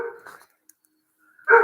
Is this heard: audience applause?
no